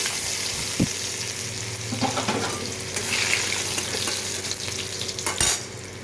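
Loud, steady sizzle of garlic and dried red chillies frying in hot oil, with a few clanks and scrapes of a spoon stirring in the pan.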